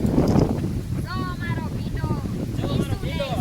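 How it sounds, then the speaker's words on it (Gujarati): Steady wind buffeting the microphone in an okra field, a constant low rumble throughout, with chirping birds and faint voices in the background. "આજે તો એટલો પવન છે કે ભીંડો બધે હલાવી નાખે."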